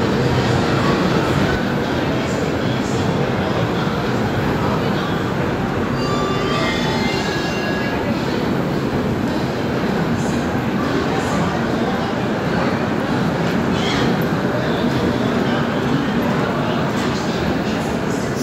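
The Udyan Express, a Central Railway train running from Bengaluru to Pune, travels with a loud, steady roar of wheels and carriage rumble heard from inside, with faint squeals at times.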